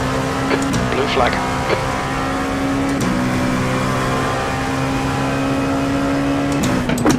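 A steady engine drone from a race car in an IMSA sim racing game at Laguna Seca holds throughout, with a few brief sharp accents as a faster car closes in.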